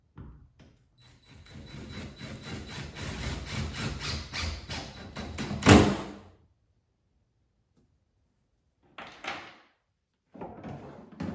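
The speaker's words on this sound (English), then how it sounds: "Let's go ahead and install the screws." Screws being driven into a rectangle hatch on a Hobie Compass kayak: a few seconds of squealing, ratcheting grind that builds to a sharp peak, then short separate bursts after a pause.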